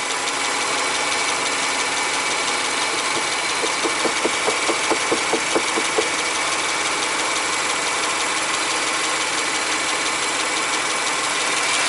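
A Subaru engine idles steadily at close range while its airbox is wiggled by hand, a brief run of light knocks and rattles rising over the even hum partway through.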